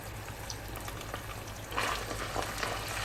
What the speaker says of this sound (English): Next, I am going to stir it.